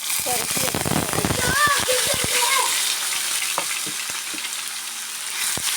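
Chopped ridge gourd or similar vegetables fry in a pan and are stirred, a dense crackling sizzle with scraping strokes, while someone talks over the first half before the frying continues more quietly.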